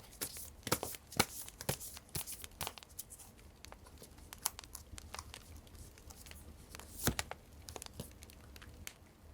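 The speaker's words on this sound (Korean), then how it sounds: "이번에는 오라클 카드로 뽑을게요." Oracle cards are shuffled by hand, a quick run of crisp flicks and papery slaps at an uneven rhythm, close to the mic and with no talking.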